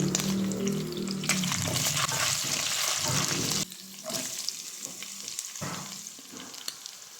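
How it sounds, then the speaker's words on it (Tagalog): Garlic and onion sauté in oil in a frying pan for pork bone caldereta, a loud dense sizzle for several seconds that suddenly drops to a quieter crackle with scattered stirring clinks and scrapes, close by. "Sunod natin mag-igisa na tayo."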